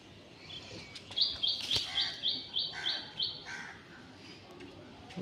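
A rapid run of about eight sharp, high chirps from domestic Madras flying pigeons at a home loft rises close and clear over steady background noise, then fades, with no talking.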